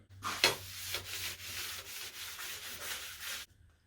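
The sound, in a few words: brushing rust converter onto old bench vice parts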